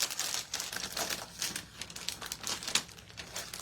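Close, crisp crinkling of packaging material being folded over around a bundle, a quick series of sharp rustles and crackles with uneven rhythm.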